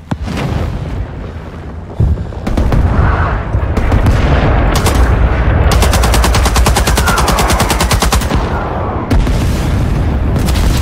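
Heavy artillery barrage in the Vietnam war game Rising Storm 2: Vietnam, loud booming impacts mixed with rapid machine-gun bursts and gunfire, dense and continuous with a brief lull near the start.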